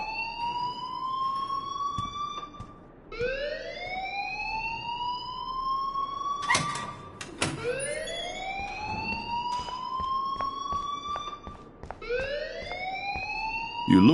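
A school alarm wails in the video game Life is Strange, rising siren sweeps repeating every few seconds, loud and close, with a few sharp knocks between cycles.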